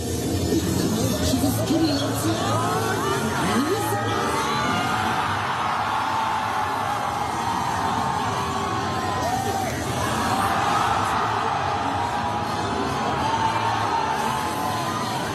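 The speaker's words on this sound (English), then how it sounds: "the crowd chanting Goku's name during the fight" A large crowd at a Dragon Ball Super watch party cheers and yells steadily throughout, a dense roaring babble with whoops rising and falling, loud and continuous.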